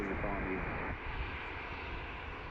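American Airlines jet departing Washington DCA for Chicago O'Hare, a broad steady engine roar at a distance that holds level throughout, with a voice briefly talking over the start.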